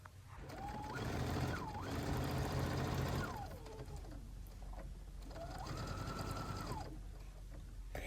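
A sewing machine stitches a seam on a fabric bag in two bursts. The motor whine rises and falls in pitch as it speeds up and slows, close and clear with no speech.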